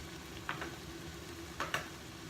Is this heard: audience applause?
no